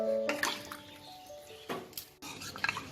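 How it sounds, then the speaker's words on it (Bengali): Water poured into a pan of chilli chicken gravy, a brief splashing trickle standing out near the start, then softer liquid stirring sounds and light clinks further on. "এখানে আমি 1/4 কাপ জল অ্যাড করলাম।"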